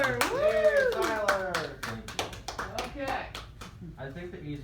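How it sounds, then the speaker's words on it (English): Small group applauding and cheering for a success story at a meeting, with scattered hand claps and whoops mixed with excited voices, the clapping thinning out toward the end. "we have a success story right here, round of applause for Tyler,"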